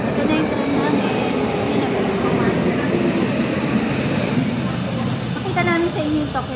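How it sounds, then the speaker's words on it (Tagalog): A subway train runs steadily into Ueno station in Tokyo with a continuous loud rumble and rail noise; people talk over it and a short chime or announcement tone rises near the end. "Ito na yung tren namin."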